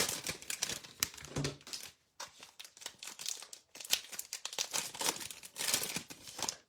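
Cellophane-wrapped basketball card packs crinkle and tear as they are opened, close-up dense crackling bursts with a brief gap partway through, no voices.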